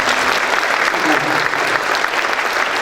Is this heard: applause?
yes